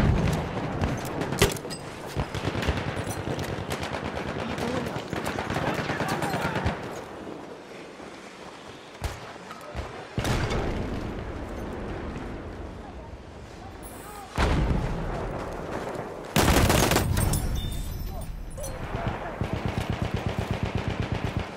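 In Battlefield 1, a German machine gun and other battlefield gunfire crackle in repeated bursts. Sharp loud shots and blasts punctuate the fire, with voices talking in between.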